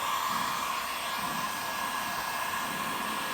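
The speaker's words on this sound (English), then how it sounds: "I turn this around and I heat the area up" A heat gun blows steadily on a drum's FinishPly wrap to soften it for removal, a continuous close airy whoosh with a tonal hum and no talking.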